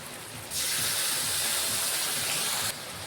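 A paste of ginger, garlic, onion and cumin with tomato hits a hot pan and sets off a sudden loud hiss of frying. The hiss holds for about two seconds and then cuts back to a quiet background.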